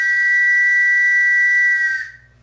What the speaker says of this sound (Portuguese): os nossos pais, os nossos avós, eles escutavam esse apito, desse mesmo apito